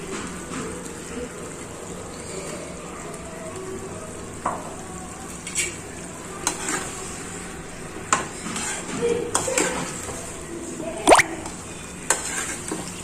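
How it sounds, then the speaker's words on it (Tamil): Mushroom malai curry gravy bubbling and sizzling steadily in a pan, with occasional spoon clinks and stirring scrapes, close and moderately quiet. "இப்போ வந்து கிரேவி நல்லா வந்து கொதிக்குது."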